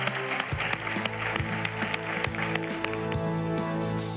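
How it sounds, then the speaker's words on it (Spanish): Studio audience applauding at the finale of a reality competition show, sustained clapping throughout with sharp louder claps punctuating it, recorded fairly quietly. "Lo aplaudimos, Leonardo Padrón."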